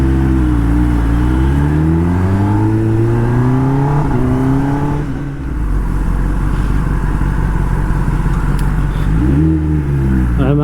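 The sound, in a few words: Kawasaki ZX10R superbike engine starting and revving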